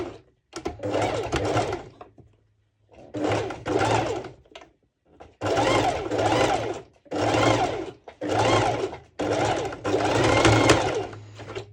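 A sewing machine stitches the lining of a two-colour sporty top in about six close, loud bursts of rapid whirring, separated by short pauses.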